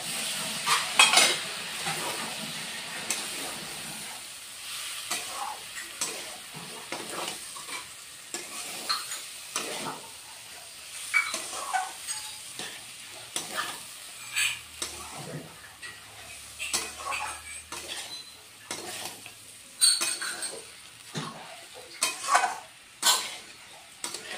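Vegetarian jackfruit curry with a splash of water being stir-fried in a pan, a steady soft sizzle broken by repeated spatula scrapes and knocks against the metal in an irregular rhythm, close by.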